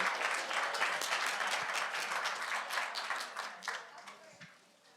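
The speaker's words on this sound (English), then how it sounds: "Let's give a round of applause as a final panel of the day." Applause from a conference audience for the final panel of the day at a Solana event, a dense wash of clapping that swells early and then fades out toward the end.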